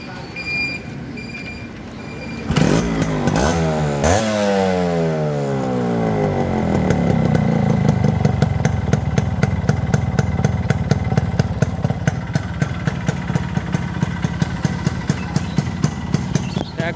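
A Yamaha RX 100 motorcycle in fresh condition starts up: quiet background first, then a sudden kick into a revving two-stroke engine that climbs and settles into a loud, rapid, even putter throughout.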